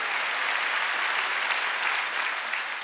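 A church congregation at a Sunday worship service applauds, steady dense clapping from a large crowd filling the room without a break.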